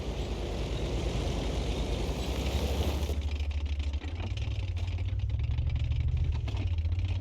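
The Maybach engine of a GW Panther tank in a video game drones loudly and throatily, a low rumbling idle that shifts pitch midway as the vehicle rolls out, with no voices.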